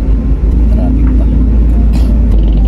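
Busy road traffic in the Philippines, a dense constant rumble of car and bus engines with occasional brake hiss and distant horns, loud and steady throughout, with talking mixed in.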